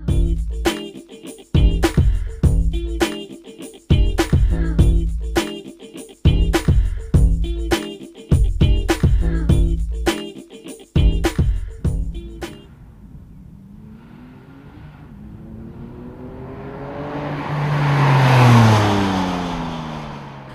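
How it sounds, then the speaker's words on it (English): A loud twin-turbo flat-six engine of a stock 2007 Porsche 911 Turbo revs in sharp repeated bursts, then the car pulls away and roars past, rising and fading. "it's a stock turbo with a flat 6-cylinder engine and twin turbos"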